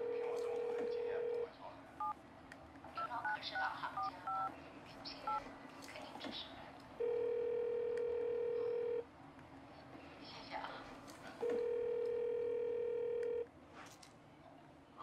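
Landline telephone dialed by keypad, a quick series of touch-tone beeps followed by repeated long ringback tones going unanswered, with people talking quietly in between.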